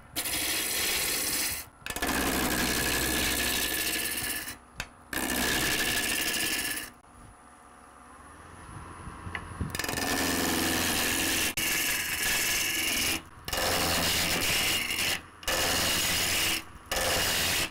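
A wood lathe runs with a rough, grinding rumble as a tool scrapes a spinning maple rolling pin blank in long passes, broken by brief pauses and a quieter stretch.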